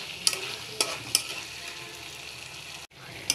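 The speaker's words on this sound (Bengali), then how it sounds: "এখন এগুলোকে খুব সুন্দরভাবে এই মশলার সাথে নেড়েচেড়ে মেখে নিতে হবে।" Chunks of chicken being mixed by hand with spices for restaurant-style chilli chicken: a continuous close, wet, squelching rustle with a few sharper slaps, steady and alone, ending in a brief pause.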